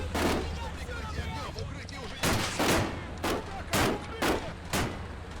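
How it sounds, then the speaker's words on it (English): Rapid exchange of gunfire in a video game battle: a string of sharp shots, several fired close together in the latter half, over a steady low rumble, with a person talking faintly underneath. "the driver just got shot out, and they're taking shots"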